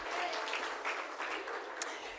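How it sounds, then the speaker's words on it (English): At the All First Nations Awards 2025 ceremony, an audience applauds in a soft, steady wash of clapping that sounds distant and fairly faint, with a brief sharper clap near the end. "Big round of applause one more time for Cal Bruton."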